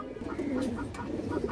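Cooing from a female pigeon among fancy pigeons, a low continuous burbling with soft repeated coos, close and steady at moderate volume with no talk.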